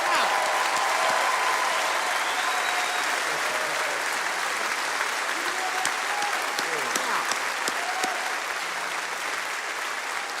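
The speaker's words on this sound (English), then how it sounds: "Ladies and gentlemen, please give them a round of applause." A large Grand Ole Opry crowd in Nashville applauds servicemembers in a long, even roar of clapping that holds for about ten seconds, with faint voices and a few whistles mixed in.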